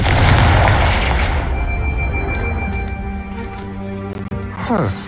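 A Confringo blasting spell explodes in Hogwarts Legacy: a loud, rumbling blast that slowly decays into a lingering ringing tail, ending with a short scraping sound.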